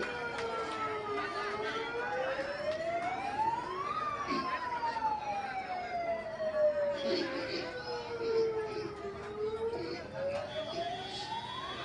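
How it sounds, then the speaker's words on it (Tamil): An ambulance siren wails in long rising and falling sweeps as it passes by a Tamil election campaign rally in Viluppuram, fairly loud and continuous over crowd and street noise throughout. "ஆம்புலன்ஸ் வழிவிட்டுருங்க."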